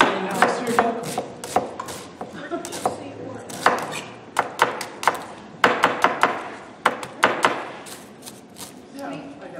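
Knife chopping vegetables on a cutting board for ratatouille, with sharp irregular thunks in quick bursts and pauses between them, close up, while a person talks intermittently.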